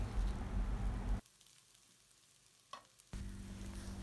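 Noodles stirred in a hot pan during a chicken noodle recipe make a loud sizzle that drops away for a couple of seconds, then returns with a faint scrape in between.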